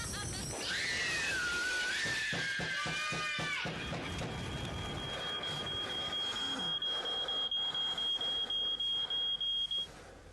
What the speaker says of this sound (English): When your smoke alarm goes off, make sure you know what to do.